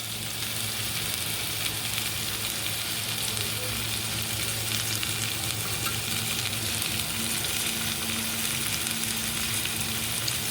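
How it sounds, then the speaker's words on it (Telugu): Small bitter gourds with salt frying in a pan, a steady dense sizzle and crackle throughout at moderate level, with occasional soft stirring and no voices. "ఫ్రై చేస్తున్నామండి కొంచెం ఫ్రై చేస్తే"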